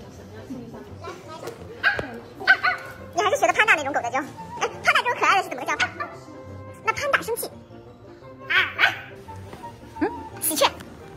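A person's voice imitates a dog barking in a string of short, yappy bursts, close and fairly loud, with brief pauses and some ordinary talk in between.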